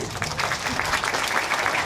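An audience claps at a civic event in Tainan, producing brief, thick, continuous applause that stays loud and even from start to finish.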